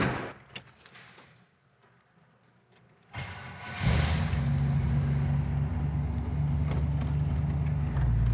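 A 1941 Ford Super Deluxe with a column-shift automatic starts up and idles steadily, after some door and handling noises and a quiet pause, its low engine rumble sustained and close.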